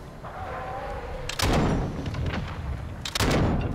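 Gunfire in the video game Call of Duty DMZ: two sharp, loud shot bursts about two seconds apart, each with a ringing tail, over steady in-game ambience.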